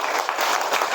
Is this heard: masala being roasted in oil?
no